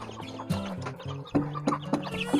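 Day-old chicks in a brooding cage peep and cluck in short, repeated calls, several voices overlapping nearby with a few sharper chirps standing out.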